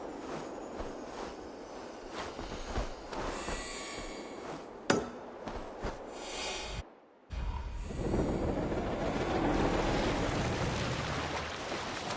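Wind and breaking waves wash around a sailing ship at sea in the video game Assassin's Creed Valhalla, with scattered creaks and knocks, a brief dropout near the middle, then steadier, louder surf rushing to the end.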